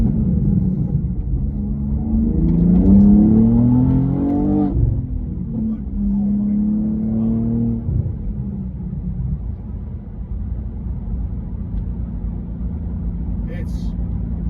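A 2024 BMW M2 with a manual gearbox accelerates hard, its engine note rising through rumbling revs, dropping briefly at a gear change, then climbing again before settling into a steady drone, heard from inside.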